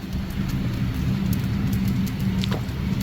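Steady, dense rain falls without a break, a broad continuous hiss with a low rumble beneath, close and fairly loud, with a brief higher chirp near the end and no talking.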